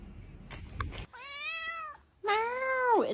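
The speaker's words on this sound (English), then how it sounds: "Meow." A cat gives two clear, drawn-out meows close by, the second longer and rising then falling, preceded by a few brief rustling noises.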